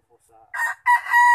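A fighting cock used in cockfighting crows loudly and close by, a short broken call rising into a long bright sustained crow, preceded by a few faint clucks.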